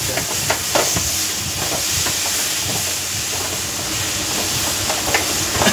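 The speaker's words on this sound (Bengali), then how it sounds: "তো দেখুন আমার পুঁই শাকটা ভাজা হচ্ছে।" Malabar spinach frying in oil in a pan, a loud, dense, continuous sizzle and hiss with small crackling pops scattered throughout.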